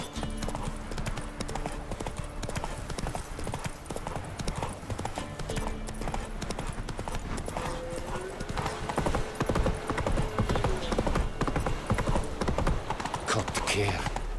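Roach the horse galloping in The Witcher 3, a steady rapid clip-clop of hooves with a brief whinny, set against game ambience and music, with a voice talking over it.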